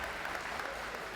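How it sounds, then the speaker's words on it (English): An audience at a high school book festival applauds, a brief, even wash of clapping at moderate distance without any distinct voices. "let's give them a round of applause"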